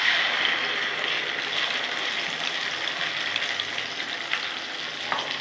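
A paste of boiled spices, tomato, ginger, garlic, green, ripe and dried chillies for an egg dish frying in a pan, a loud, steady hiss and crackle with occasional clinks of stirring.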